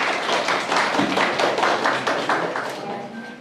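Clapping breaks out at a children's reading contest and Librarians' Day event in Sieroszewice, a dense, fairly loud spatter of hands that stays steady before easing slightly at the close.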